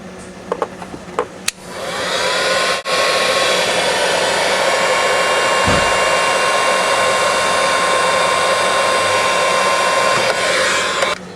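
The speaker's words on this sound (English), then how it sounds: "we're going to cover it in heat shrink." A loud heat gun roars steadily as it shrinks heat shrink tubing over a freshly soldered wire joint, starting after a few clicks and running close and continuous with a thin whine, then cutting off near the end.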